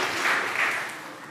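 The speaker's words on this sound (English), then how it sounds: "Give a big round of applause." A church congregation applauds after a confirmation homily, a broad wash of clapping that swells briefly and then fades over about a second.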